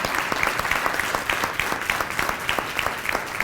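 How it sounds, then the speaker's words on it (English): A round of applause at a town board meeting in Babylon, many people clapping together in a steady, moderately loud patter with sharper individual claps standing out, no talk over it. "that alone deserves a round of applause for her service"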